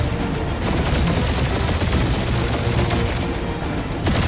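Gunfire in the Guardians of the Galaxy video game comes as dense, continuous rapid shots with booming impacts, loud and close, filling the whole stretch without talk.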